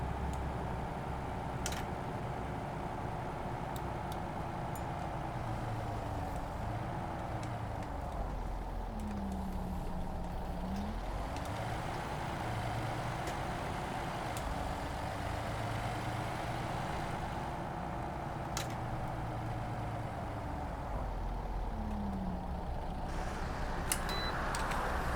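Scania bus engine idling in the OMSI 2 simulator, a continuous low rumble whose hum drifts gently up and down in pitch, steady and moderately loud throughout.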